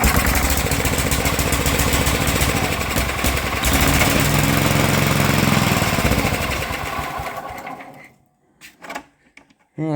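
A vintage Sears Suburban 12 lawn tractor, a barn find, fires up after gas is dribbled in and runs with a loud rough chatter for several seconds before sputtering out, followed by a few weak coughs and a restart.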